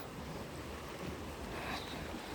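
Ocean waves wash in at a beach with deep water, a steady broadband roar of surf mixed with wind buffeting the microphone, continuous and fairly faint with no voices.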